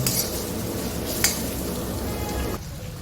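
Jain-style paneer tikka masala gravy frying in a pan, with no onion or garlic, giving a steady close sizzle broken by a few sharp clinks of a spoon against metal and no talking.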